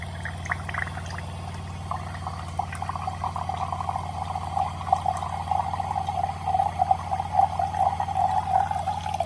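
Water trickles steadily from a SimPure Y9A UV countertop reverse osmosis filter dispenser, a soft, continuous pour that fills a glass, close and fairly quiet over a low steady hum, with no talk.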